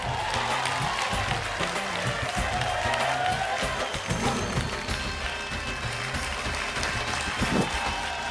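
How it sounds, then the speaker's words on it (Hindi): Audience applause at a Bhojpuri TV show, a steady wash of clapping and crowd noise that stays moderately loud throughout with no pauses. "जोरदार ताली से स्वागत करिए जाहिद अनवर"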